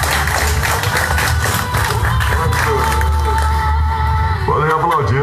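Church congregation clapping and cheering after a pastor's father has spoken, loud sustained applause under music and a voice talking over it.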